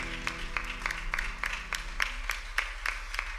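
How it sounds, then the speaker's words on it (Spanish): Applause from a live audience at an art presentation: a steady patter of many hands, rhythmic and moderately close, with a low hum underneath. "que se merece otro aplauso"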